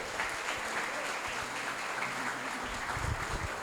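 A church congregation applauds its pastor at a Sunday evening service, giving dense, steady clapping from many hands that fills the room at moderate volume throughout.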